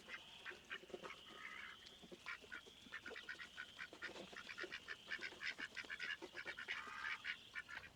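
Ducks kept on a garden homestead give repeated honking quacks, scattered at first and then coming in quicker bursts toward the end, moderately close and heard alone without talk.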